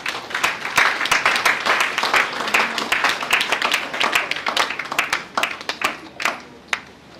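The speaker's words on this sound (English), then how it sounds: "Please, another round of applause for the" An audience at an asthma conference claps after a presentation, a dense burst of many hands that stays loud for several seconds and then thins into a few scattered, sharper claps at the end.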